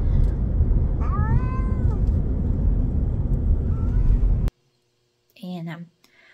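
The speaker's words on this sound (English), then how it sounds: "Thursday, we took the cats in. We are being serenaded on the way to the vet's office." Unhappy cats meow repeatedly inside a moving car on the way to the vet, plaintive cries rising over loud, steady road rumble, then one more meow after the engine noise cuts out.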